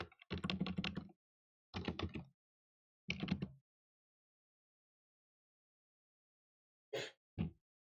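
Bursts of computer keyboard typing, several quick clusters of key clicks separated by pauses, close and clear with no talk.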